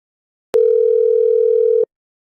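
A telephone dial tone sounds while a call is being placed: one steady, loud, clean tone that holds for about a second and a half and then cuts off, with silence around it.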